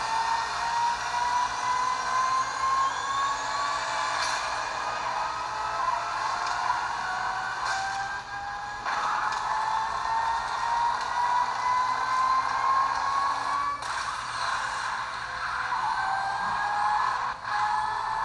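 A car engine in a video game holds a steady, droning whine as the car drifts. The pitch climbs and dips in long sweeps over a constant hiss, with no speech.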